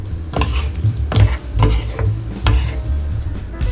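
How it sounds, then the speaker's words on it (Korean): Eggplant and chili peppers stir-fry with perilla oil in a pan, a spatula tapping and scraping in a roughly regular rhythm of clicks over a low background rumble. "양념이 잘 배어들었다면 고추 넣고 한 번 더 볶아주세요"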